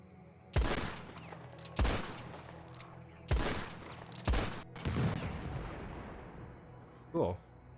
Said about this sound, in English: If I shoot it, can I shoot it from here?